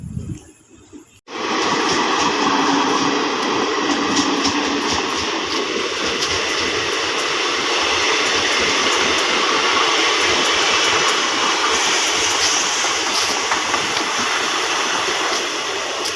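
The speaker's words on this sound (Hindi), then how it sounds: "और यहाँ ट्रेन आ चुकी थी" A train at a railway station in Bihar, India, arrives with a sudden loud continuous roar after a quiet second, a dense rumbling, rattling wash of wheels and carriages that stays close and steady for about fifteen seconds.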